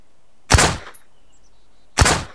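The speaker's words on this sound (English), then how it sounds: "But this pistol is not very precise at range." Two close, loud pistol shots about one and a half seconds apart in the game Miscreated, each a sharp bang with a short decay, near silence between them.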